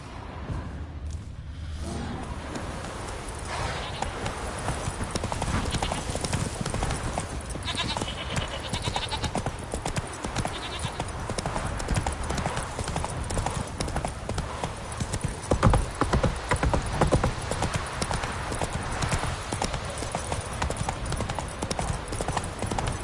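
Hooves of the horse Roach clip-clop steadily and up close in The Witcher 3, a rapid continuous beat over about twenty seconds above a dense rumbling game background, no clear talk.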